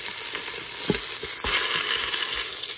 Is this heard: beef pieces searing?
yes